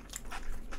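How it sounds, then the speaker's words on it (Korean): Close crunchy bites into a fried Chinese flower bun (kkotppang), two or three crisp snaps within a moment, with no talking. "튀겨서 먹는 그 꽃빵"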